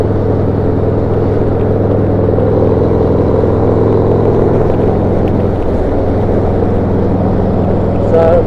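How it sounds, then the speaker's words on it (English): A Harley-Davidson Road Glide ST with a 131 engine rumbles loud and close under throttle, a dense, steady engine drone that swells slightly near the end. "and you just turn that throttle. Amazing response."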